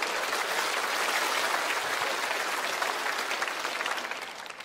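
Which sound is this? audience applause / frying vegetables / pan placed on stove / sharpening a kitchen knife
audience applause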